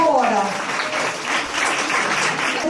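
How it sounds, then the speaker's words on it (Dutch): Audience applause for an assistant at a talent show event, steady clapping throughout with a voice briefly audible at the start. "Mag ik een applaus?"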